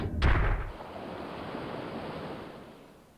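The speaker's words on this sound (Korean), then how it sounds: "근처에서 물 흐르는 소리 나왔다." A rushing wash of water noise swells after a sharp burst, then holds steady and slowly fades, with no voices.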